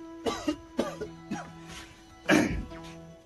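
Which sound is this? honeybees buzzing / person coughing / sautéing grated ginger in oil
person coughing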